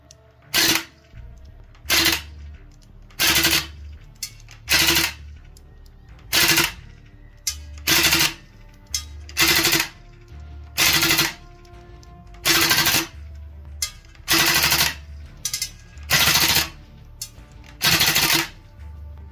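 VFC gas blowback M249 airsoft machine gun firing indoors beside an open window, about fifteen loud, evenly spaced short bursts with a hard mechanical clatter, each ending in a brief pause.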